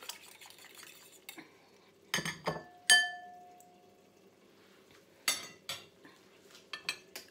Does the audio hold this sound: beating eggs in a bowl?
yes